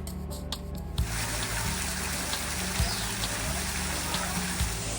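Warm water from Piton Falls pours steadily into a clear man-made pool on a volcanic Caribbean island, a dense, continuous rush that begins abruptly after a second of quieter ambience, with a low hum underneath.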